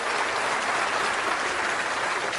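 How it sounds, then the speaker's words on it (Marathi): A crowd at a Marathi poetry recital claps hard and continuously, a dense, even roar of applause with no pauses. "एकदा जोरदार टाळ्या वाजवून मला तुम्ही"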